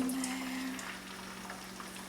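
Egg frying in a pan for huevos con chile, a steady soft sizzle and crackle that holds evenly throughout with no talking.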